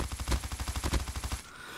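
An LMG light machine gun fires in a video game, a fast, even burst of about twenty sharp shots that stops abruptly, loud and close with no talk.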